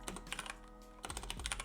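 Quick bursts of typing on a computer keyboard, close and crisp, with a brief lull between two runs of keystrokes.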